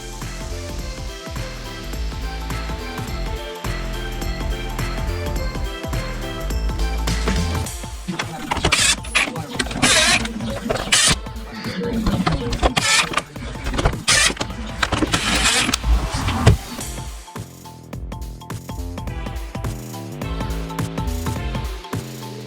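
An air filter is refitted in an Audi Q5 during a full service, with plastic housing clicks, rustles, scrapes and snapping clips up close, busiest in the middle, over a steady low hum.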